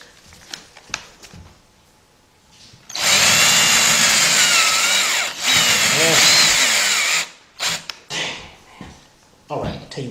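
Power drill running with a bit during a Honda head gasket, timing belt and water pump job, a loud steady whir of about four seconds with a brief dip, set between short clanks and shuffling noises.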